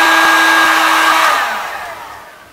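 A heat gun blows hot air onto a gearbox bearing housing in a GB8 laydown gearbox during a bearing and bronze bushing change, a loud steady whirring roar that fades as it winds down.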